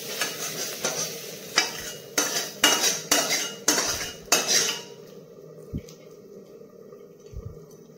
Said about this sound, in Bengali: উচ্ছে ভাজাটা নামিয়ে নিচ্ছি।